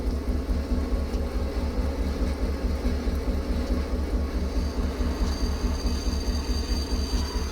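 Heavy train rumble with rhythmic wheel clatter from refrigerated reefer trains slowing under light braking in a train simulator game, steady and continuous, with a faint high brake whine near the end.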